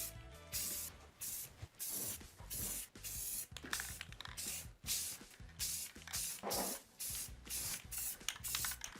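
An aerosol can of spray paint hisses in short, repeated bursts onto a wooden drawer, each spurt sharp and close with brief pauses between, alongside faint rattling of the can.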